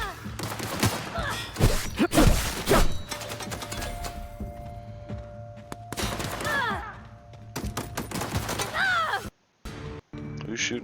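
Gunfire in a sword-fighting video game, heard as scattered sharp cracks and thuds that come and go under continuous talk and game sounds, with brief silent gaps near the end.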